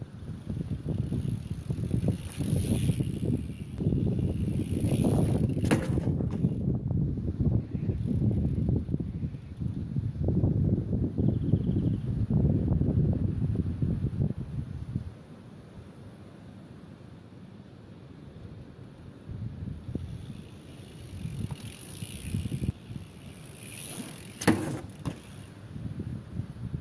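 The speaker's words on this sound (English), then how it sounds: "The wind was just getting outrageous." Strong gusty wind buffets the microphone while a bicycle is ridden outdoors, a loud continuous roar that drops away sharply partway through before lighter rushing and rustling return.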